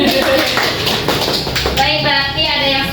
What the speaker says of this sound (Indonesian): terima kasih tepuk tangan untuk Pak Bambang